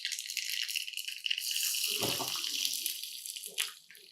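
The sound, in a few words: mustard seeds spluttering and sizzling in hot oil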